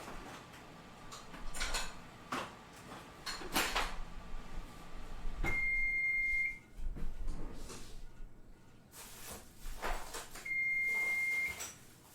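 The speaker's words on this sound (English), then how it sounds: "I don't want to leave you guys listening to that beeping" Electronic beeping of a kitchen appliance, two sustained high tones several seconds apart, heard amid clattering of dishes, drawers and utensils being handled nearby.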